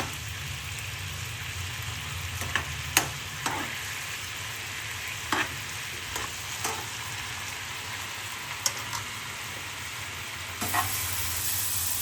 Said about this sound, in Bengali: আর গার্লিক পাউডারে ম্যারিনেট করে আমি এটাকে ভাজছি।